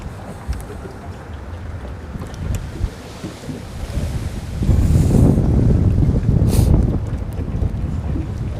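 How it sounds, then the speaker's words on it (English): Cold wind gusting over a boat on open water during a fishing outing, a steady rush with microphone buffeting that swells louder through the middle and tails off, with no talking. "The wind's getting cold now."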